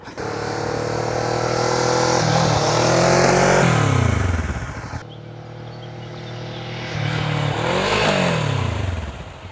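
A motorcycle ridden through tight turns during one-to-one rider training, its engine rising and falling in two loud revving sweeps with pitch bends as it circles close by, no talk.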